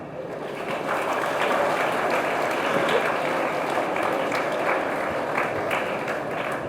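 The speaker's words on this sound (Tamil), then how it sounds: "அதுக்கும் கைத்தட்டு." Audience at a Puducherry political rally breaks into sustained clapping after a speaker's remark, a dense, steady patter of many hands filling the whole stretch at fairly loud level.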